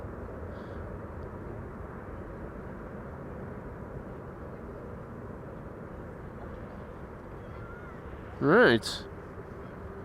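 A Kalitta Boeing 747 climbs out of Amsterdam Schiphol Airport, a continuous broad roar heard from a distance that stays steady throughout, with one short spoken word near the end.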